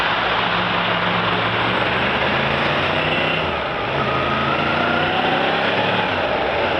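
A Yamaha MT10 motorcycle engine runs steadily and loudly up close, with a dense, buzzing drone that dips briefly midway before picking back up.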